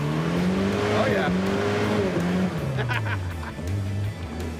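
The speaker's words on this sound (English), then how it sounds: "It does do burnouts." A car does a burnout with its tires squealing, the engine revving and wailing in rising and falling sweeps. Rubber screeches loudly throughout while people talk in the background.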